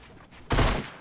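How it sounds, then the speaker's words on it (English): Video game gunfire: a single sharp burst of shots erupts loudly after a quiet moment and decays quickly. "Oh, you're really shooting at me, huh?"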